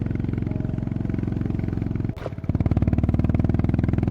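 A Honda CB350RS single-cylinder motorcycle thumps along a rain-soaked mountain road, its close, steady pulsing exhaust loud throughout, with a brief dip as the rider shifts before the beat returns stronger.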